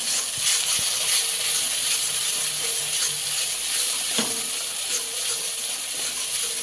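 Spices and crab brain (ghelu) cooking together in a pan, a steady bright hiss of frying close up with occasional faint scrapes and clicks of stirring.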